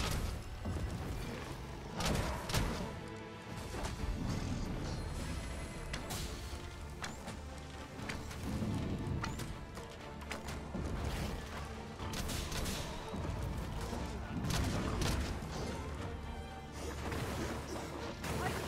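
In the Dragon's Dogma 2 game, an area-of-effect barrage attack produces a dense, continuous stream of loud crashing impacts, booms and whooshes, like rapid fire pounding over and over throughout.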